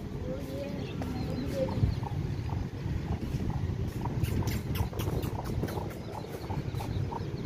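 Chickens cluck in short, repeated bursts close by, amid a busy farmyard background with faint voices now and then.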